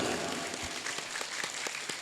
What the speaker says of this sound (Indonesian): Tepuk tangan untuk alun-alun Tanjung.